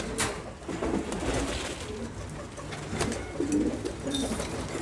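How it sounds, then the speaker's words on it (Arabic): Pigeons, including some with squabs, cooing softly in a loft: repeated low, rolling coos close by under a faint ambient hum, with no talk. "بعد كده بقى ايه الحمام اللي معاه زغاليل زي ده"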